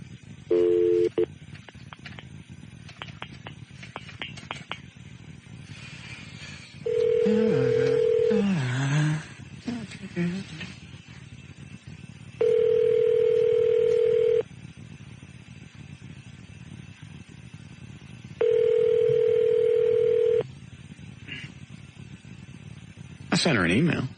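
Telephone line on a radio show's studio phone: a short burst of touch-tone dialing, then sustained steady dial-tone stretches interrupted by clicks, with people talking in between.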